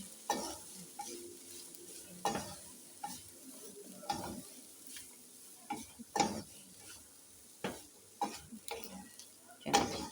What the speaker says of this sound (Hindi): इसको भी हम अच्छे से वेजिटेबल में मिक्स कर लेंगे।